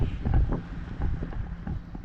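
Steady wind buffets the microphone with low rumbling gusts, continuous and fairly loud throughout, on a cold outdoor walk.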